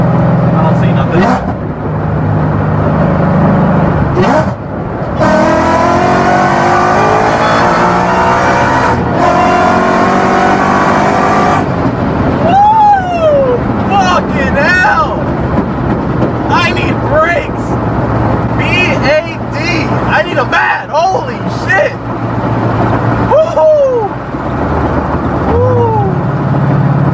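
A Ford Mustang engine pulls hard on a highway, its loud rising revs climbing over several seconds, then settling into a droning cruise with road roar while people talk over it.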